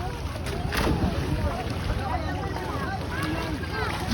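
Fishing boat Alejandria coming back in from sea, a steady low rumble of its motor with wind and water noise while people talk nearby.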